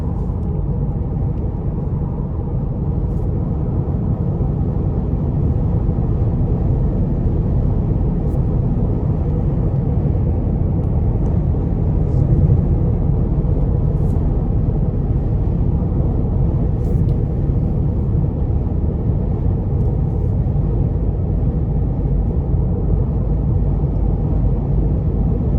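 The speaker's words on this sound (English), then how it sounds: "the exhaust note is actually really good. It doesn't sound grainy or strained or anything like that" A 2020 Cadillac CT4 2.0T cruises on an interstate, its low, even engine and exhaust drone mixed with road rumble, steady and loud throughout with no speech.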